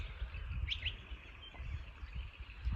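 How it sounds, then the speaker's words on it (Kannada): Birds chirp on a morning in Kodaikanal, with a few short, high calls standing out against a steady wash of birdsong and low rumbling ambience, and no voices. "ಹಕ್ಕಿಗಳ ಸೌಂಡ್ ಕೇಳಿಸ್ಕೊಳ್ಳಿ,"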